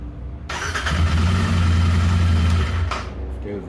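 A Royal Enfield Interceptor motorcycle with a starting fault is cranked and catches, its engine rumbling steadily for a few seconds before cutting off, close and loud.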